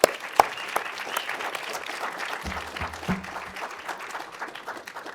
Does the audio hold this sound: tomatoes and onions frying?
no